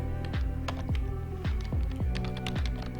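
Keys on a computer keyboard being typed, CSS code entered in a web editor: a steady run of separate keystrokes, close and fairly loud, with a faint background hum and no talking.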